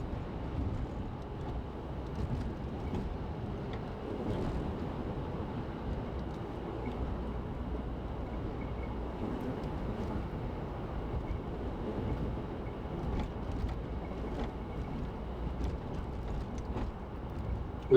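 A train works along a steep mountain track near Willow Creek Pass in Colorado, giving a steady, low, broad rumble that holds at an even level throughout, with a faint airy wash and no voices.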